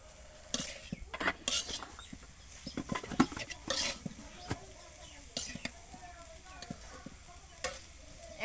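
Greens stir-fried with onion and chili in a pan, a steady sizzle broken by repeated sharp scrapes and clinks of a spatula stirring, close and busy with no talking.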